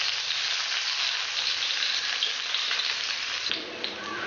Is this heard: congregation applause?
no